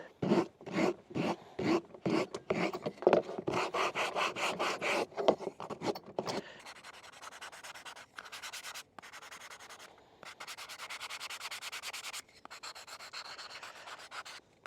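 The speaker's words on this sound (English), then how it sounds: "I'll just hit these with a sanding block, round out the edges." Rhythmic back-and-forth rasping strokes of a sanding block rounding wooden edges, loud and close at first, then lighter, faster scrubbing strokes with brief pauses.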